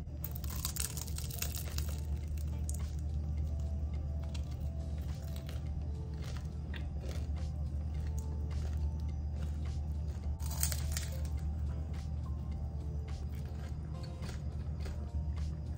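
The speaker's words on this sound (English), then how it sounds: "I just want y'all to hear the crunch" Someone bites into a homemade vegan eggroll, and crisp crunching and crackling bursts come through close to the mic, a few louder chews standing out against a steady low background hum.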